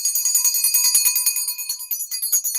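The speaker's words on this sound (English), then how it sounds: "I'm gonna use my mom's bell." A small hand bell rings in a quick run of bright, shimmering tinkles that fade out, followed by a couple of lighter strikes, close and alone with no talking.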